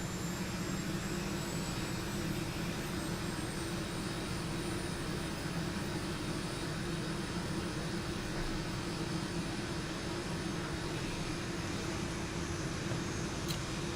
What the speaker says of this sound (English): both engines have started successfully